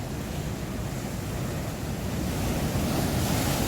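Surf breaks close to shore beside a car parked overnight at a free seaside camping spot, a loud, continuous wash of waves mixed with gusting wind, no voices.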